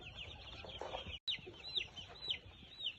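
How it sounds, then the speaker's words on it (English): Chickens raised on a small poultry farm cluck softly and intermittently at close range, with short high calls repeating over low rustling and a brief sharp click partway through. "The birds are taking a nap."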